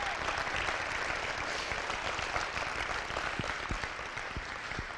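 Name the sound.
applause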